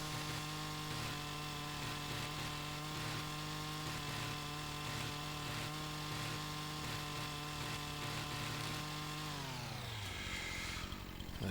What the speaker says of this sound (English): of course I own a chainsaw. I was using it for contracts.